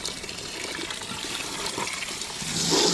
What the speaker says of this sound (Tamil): இப்போ தால்ச்சாக்கு ஏற்ற அளவு கொஞ்சம் தண்ணி சேர்த்துக்கிறேங்க